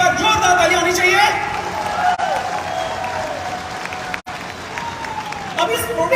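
An audience at an agriculture product launch event in Haridwar claps loudly for a new product, a burst of applause mixed with crowd noise and a voice speaking over it.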